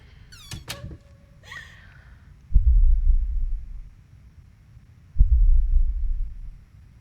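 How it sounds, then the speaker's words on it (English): A slow heartbeat in the video game Layers of Fear: deep, muffled low thumps, about two widely spaced beats, each followed by a rumbling swell, after a few brief high creaks at the start. "It's definitely still a heartbeat, though."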